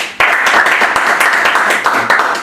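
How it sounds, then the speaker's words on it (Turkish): Audience clapping in a hall after a student's speech at a July 15 commemoration event, a dense burst of applause starting abruptly and holding steady and loud throughout. "Buna bir alkış yakışmaz mı?"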